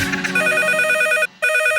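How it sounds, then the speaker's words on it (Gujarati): A telephone rings in a radio station's comedy call-in studio: loud electronic trilling in two bursts split by a brief pause, heard on its own without speech. "ફોન આવ્યો કાકા"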